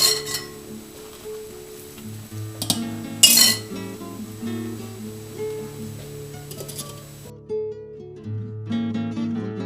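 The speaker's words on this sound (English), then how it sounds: "We'll need to stir occasionally to prevent the dumplings from sticking together." A spoon stirring chicken dumplings in briskly boiling broth, with scattered metallic clinks against the pot over steady background music and no speech.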